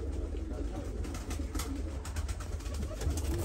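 Pigeons coo softly at a pigeon farm in Türkiye, a faint, continuous low murmur of calls with no talk over it.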